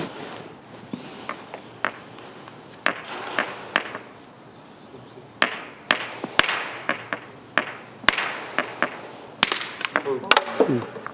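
Hammerstone striking stone cores to knap off flakes during a stone tool making practice session, a series of sharp clacking impacts at irregular intervals, some close and loud, with faint voices in the background.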